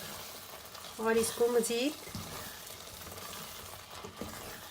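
Lobia rajma curry sizzling softly while being fried and stirred in a pan, with someone speaking briefly over the quiet cooking sounds.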